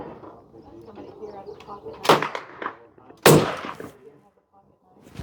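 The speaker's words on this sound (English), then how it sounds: "I'll be shooting the 280 AI with the suppressor for the very first time." A suppressed 280 AI rifle firing Barnes ammunition: two sharp, loud reports about a second apart, with talking before and between them.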